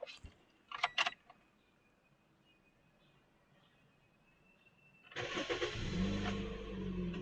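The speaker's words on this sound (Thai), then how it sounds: "เดี๋ยวเราไปฟังเสียงสตาร์ทรถก่อนค่ะ" A Toyota Vios 1.5 engine starts after a long quiet stretch, catching abruptly and settling into a loud, steady idle close by for the last couple of seconds; a few faint handling clicks come earlier.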